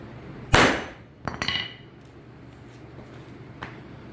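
One hard crack from a 2.5 pound hammer striking coated glass opens the sound, then a quick cluster of smaller clinks and rattles before it fades to near silence with one faint tap.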